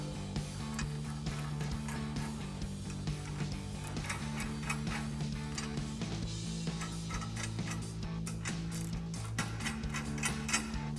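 Metal nuts and flat washers are threaded by hand onto U-bolts during a rear lift-block install on a Ford F-250, giving small, steady metallic clinks and rattles over a low background hum.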